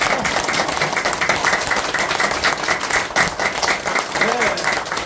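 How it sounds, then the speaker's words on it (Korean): A crowd claps hard in unison with palm-to-palm hapjang clapping, filling the whole stretch with loud, dense, rhythmic claps at a year-end gathering of Korean lecturers, with a few voices mixed in. "자, 지금 크게 합장 박수 쳐."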